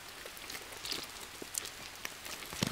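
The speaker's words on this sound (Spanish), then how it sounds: "Ahora para la lluvia." Rain patters steadily in a jungle survival game, with scattered heavier drops spattering on surfaces through a soft, continuous wash of rainfall.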